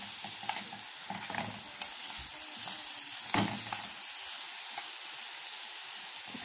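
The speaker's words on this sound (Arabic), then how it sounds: "لازم تشوحي الرز كده مع السمنه او مع الزيت على حسب انت بتطبخيه باي ماده دهنيه" Soaked rice sautés with salt in ghee or oil in a pot, a constant bright sizzle with scattered stirring scrapes and clinks, close and continuous without voices.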